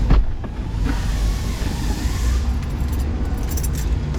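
Keys jangle in the ignition of a 1998 BMW Z3 convertible as the key is turned on, a few bright metallic clinks near the start, then a steady low rumble and more faint jingling toward the end.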